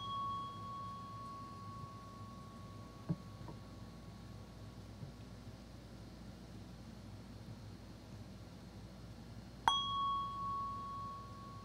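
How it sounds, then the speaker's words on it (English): A prayer bell rings in a quiet room during a spiritual gathering: a fading tone at the start, then one clear strike near the end that rings out and decays, with faint background hum. "I am going to ring the prayer bell"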